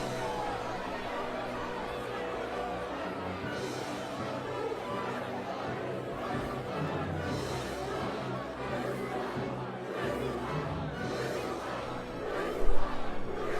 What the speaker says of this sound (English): as the guards are yelling at the crowd